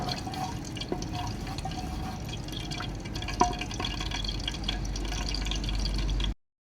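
Whole cinnamon, black cardamom and mace frying lightly in a pan, giving a steady soft sizzle and crackle with a few brief pops, close by and continuous, with no talk.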